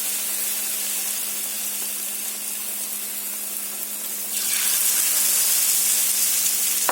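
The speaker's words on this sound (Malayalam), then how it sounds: "അപ്പം നമ്മുടെ ബജി ഇങ്ങനെ എണ്ണയിലോട്ട് ഇട്ട് കൊടുക്കുന്നുണ്ട് സൂപ്പറായിട്ടുള്ള ബജി നമുക്ക് പൊരിച്ചെടുക്കാം" Chili bajji frying in hot oil, a steady crackling sizzle that swells sharply louder partway through as more batter-coated chilies drop into the pan, close and continuous, with a faint low hum underneath.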